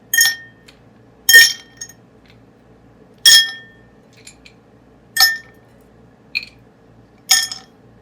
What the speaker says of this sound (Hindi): अब इसके अंदर आइस डालेंगे।